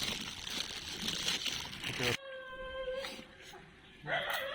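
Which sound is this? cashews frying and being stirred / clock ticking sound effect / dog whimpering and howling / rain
dog whimpering and howling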